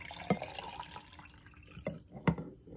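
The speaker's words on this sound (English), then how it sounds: "you're gonna fill your jar up almost all the way with water." Water running into a glass jar, a soft trickle broken by three distinct knocks or splashes, close and moderately quiet, with no voices.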